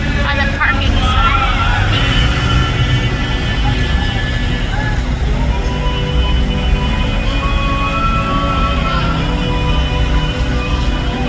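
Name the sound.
city street traffic at night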